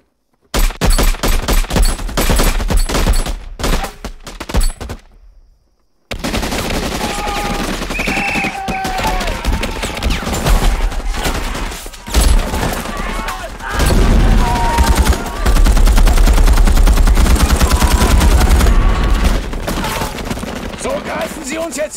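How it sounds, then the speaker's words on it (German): A volley of rifle and machine-gun fire from soldiers in a battlefield scene of the war film We Were Soldiers, loud and dense, with a short silent gap before sustained rapid bursts continue to the end. "Jeder Mann feuert 3 Schuss auf das ab, was ihm verdächtig vorkommt."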